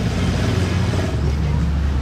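A pink Lamborghini Aventador Ultimae with an extra exhaust, on a Saudi plate, rolls down toward the Fairmont in Monaco. A steady, deep engine rumble runs throughout, close and loud, with voices partly over it.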